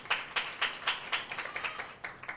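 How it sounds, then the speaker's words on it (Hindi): A church congregation clapping for a brother, a run of about ten clear, evenly spaced claps in a steady rhythm, moderately close, with no talk over them. "भाई साहब के लिए ताली बजाएंगे करके।"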